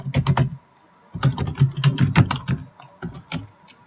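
Someone types on a computer keyboard in quick, irregular bursts of crisp key clicks, separated by brief pauses, close and fairly quiet, with no voices.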